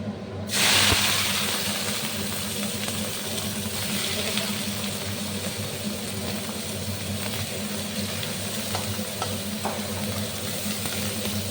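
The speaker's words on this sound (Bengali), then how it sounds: "পেঁয়াজটা লাল লাল করে একটু ভেজে নিই" Onions frying in a pan on a home stove, a steady close sizzle and hiss from the start, with occasional stirring scrapes, no talking.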